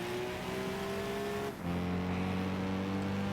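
Racing car with a racing exhaust in Gran Turismo 5, a steady loud engine drone that holds a constant note, dips briefly as it shifts gear, then resumes at a lower, stronger pitch, with no talk.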